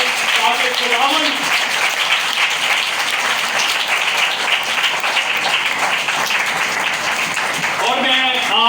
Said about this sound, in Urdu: زوردار تالیاں اپنے آپ کے لیے بجائیں